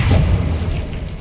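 An Incendio fire spell cast in Hogwarts Legacy bursts with a deep, loud boom and a fiery whoosh that quickly tails off.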